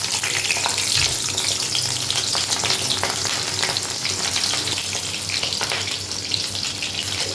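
Onion and capsicum shallow frying in oil in a kadhai, a loud continuous hissing sizzle with occasional stirring scrapes, close up and without talking.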